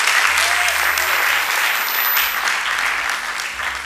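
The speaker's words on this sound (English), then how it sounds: "you've got a big hand clap for all the first time visitors" A church congregation gives sustained, loud applause for first-time visitors, a dense and steady clatter of many hands that runs throughout without pause.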